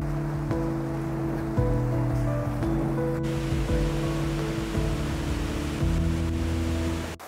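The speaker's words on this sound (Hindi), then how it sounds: "पानी की स्ट्रीम पत्थरों से टकराते टकराते कितने खूबसूरत ढंग से इस ब्रिज के नीचे से जाकर इंडस को मिल रही है।" A mountain water stream rushes over stones beneath a bridge before joining the Indus River in Ladakh, a steady, loud, broadband wash of flowing water with no voices.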